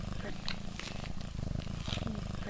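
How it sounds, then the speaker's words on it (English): A cat purrs steadily while being snuggled by a girl, a low continuous rumble that runs throughout with a person talking over it. "Takira is snuggling her cat Oreo while we talk."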